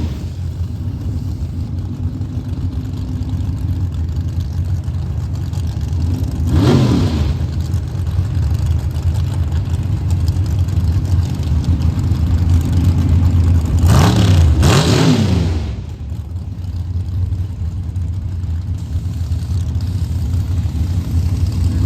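Nitrous outlaw drag race cars launching down the track at Mooresville Dragway, with a steady loud engine drone and two rising, roaring passes swelling around the middle before fading back to a constant rumble.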